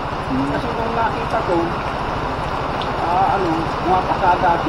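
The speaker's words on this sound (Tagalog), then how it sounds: "Lumakas pa ulan." Rain keeps up a steady, dense patter on a surface throughout, close and even in loudness, while a person talks over it in Filipino.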